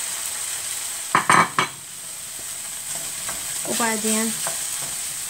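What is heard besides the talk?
zucchini noodles stirred with sauce in frying pan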